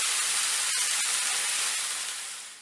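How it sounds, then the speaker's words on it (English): Steady sizzling hiss of fish searing in a hot oiled pan, a continuous bright crackle with a few faint pops, fading slightly at the end. "While my fish is frying on the other pan"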